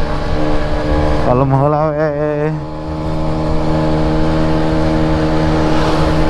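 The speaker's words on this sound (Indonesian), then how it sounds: "Ini lagi santai-santaian saya pakai Vespa" A Vespa scooter engine drones loudly and close while riding, with a rising and falling rev in the middle and then a steady hum, a voice speaking briefly over it.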